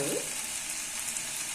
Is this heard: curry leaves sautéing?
yes